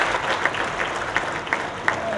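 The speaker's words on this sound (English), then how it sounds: "Please give a big round of applause to all the winners" An audience applauds award winners at the Biennial Grassroots Innovations Awards ceremony, a dense, sustained wash of clapping from a large indoor crowd with a few louder claps standing out.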